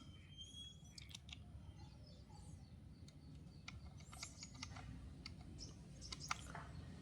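Faint computer keyboard typing enters a remote ID for a Honda Vario 150, heard as sparse, light key clicks in short bursts over a quiet room hum, with a few brief high chirps in the background.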